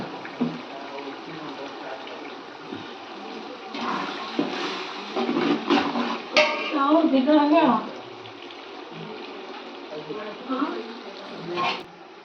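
Soaked raw white rice is washed in water, with splashing, sloshing and swishing that swells in the middle of the clip over a steady background of running water, fairly close, with voices talking in the background.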